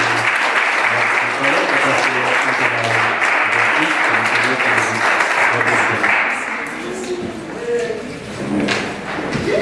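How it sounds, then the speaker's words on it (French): A church congregation applauds during a worship service at a 25th anniversary renewal of vows, with steady dense clapping, a rhythmic low thumping under it and voices mixed in, fading a little near the end. "Nous applaudissons le Seigneur."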